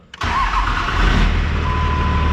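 A Cummins 5.9 diesel engine, a 12-valve with a VGT turbo, cranks briefly and fires right up, settling into a loud, steady, rumbling idle close by with no talking.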